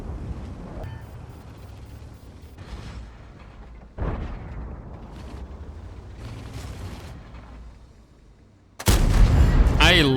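Tank cannon shots in a World of Tanks–style game featuring a tier 8 premium tank with 400 alpha damage: several heavy booming blasts with rumbling tails, the loudest burst near the end, over a steady game background.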